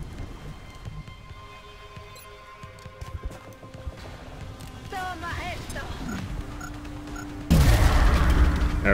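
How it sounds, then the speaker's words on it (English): A rookie's grenade explodes in XCOM: Enemy Within, a sudden loud blast that lands near the end of a stretch of low rumbling battlefield ambience and sustains a heavy roar afterward. "Probably that rookie's grenade."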